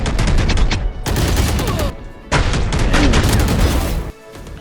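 Rapid bursts of gunfire from a Valorant match, loud and close, firing in several dense volleys separated by short pauses, with no talk over them.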